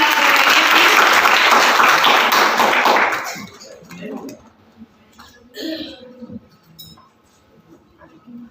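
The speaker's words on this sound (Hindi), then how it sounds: "जोरदार ताली बजा" At a college lamp lighting ceremony and prize giving, a crowd claps loudly for about three seconds before it fades, leaving scattered taps, shuffling and a few voices in the room.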